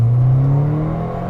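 Mini Cooper S pulling hard under acceleration in sport mode, a close, loud engine note climbing steadily in pitch over about a second and a half, with no talking over it.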